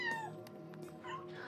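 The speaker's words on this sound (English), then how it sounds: "One of those horror kittens started towards me, mewing" A kitten mews in a few high, wavering cries, close and fairly faint, with no talking over it.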